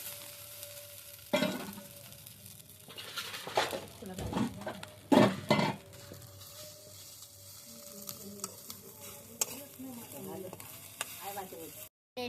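Idli pieces frying in a pan over a chulha, a soft sizzle with stirring scrapes and clinks coming in bursts, under occasional nearby voices.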